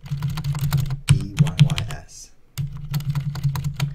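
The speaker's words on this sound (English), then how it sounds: "Then try typing that in Colemak." Rapid clicking of a computer keyboard typed in the Colemak layout, steady keystrokes across most of the span with a short pause midway, under a faint voice.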